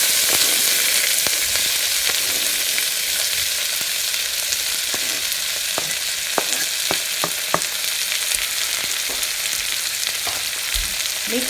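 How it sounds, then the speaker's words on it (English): Onions, chilies and methi fry in a pan for brinjal pulav, a steady close sizzle filling the whole clip, broken by occasional sharp pops and faint stirring clicks. "Mix nicely and let them fry."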